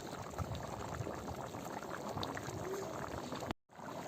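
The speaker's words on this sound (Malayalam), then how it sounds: "അങ്ങനെ നമ്മുടെ ചിക്കൻ കറി നന്നായിട്ട് തിളച്ച് വന്നിട്ടുണ്ട്" A pot of Kerala-style chicken curry bubbles at a rolling boil, a close, steady burble of popping bubbles with no talk and a brief gap near the end.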